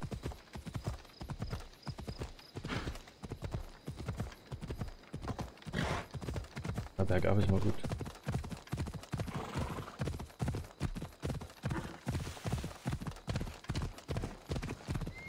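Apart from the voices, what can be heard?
horse hooves while riding in Assassin's Creed Odyssey video game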